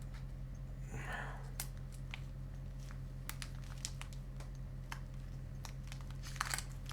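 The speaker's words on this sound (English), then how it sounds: "I will try to win out the battle of the mind over the Ziploc bag" A plastic Ziploc bag holding thick, zesty jerky is worked open with faint, scattered crinkles and tearing rustles over a steady low background hum, and a brief louder crackle comes near the end.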